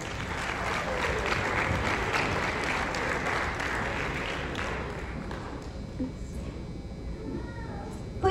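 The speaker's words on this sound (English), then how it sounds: "Please give our boys basketball players and their families another round of applause" Applause from the crowd in a gym during a senior sports recognition for boys basketball players and their families, strong and sustained at first, then thinning to scattered claps and fading near the end.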